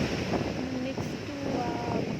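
Wind buffets a mobile phone microphone outdoors near the Tirupati temple, a steady rumbling roar that fills the whole clip. Faint snatches of voices can be heard underneath it.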